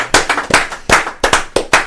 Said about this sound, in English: I got to applaud that